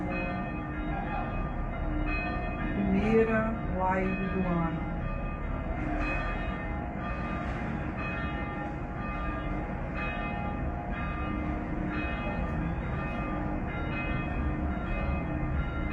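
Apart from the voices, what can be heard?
small church bell ringing in the background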